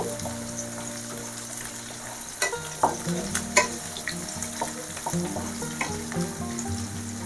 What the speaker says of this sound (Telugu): ఇవన్నీ కొంచెం ఫ్రై అవనివ్వండి